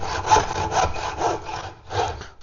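A hard point handsaw cuts timber for a curved-head door in five even, rasping strokes, each a close, gritty push-pull with a short pause near the end.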